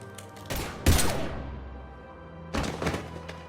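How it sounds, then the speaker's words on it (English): Gunfire in Mass Effect 3, two separate bursts of heavy thumping shots with a low rumbling tail between them, fairly close, no talk. "Now open fire!"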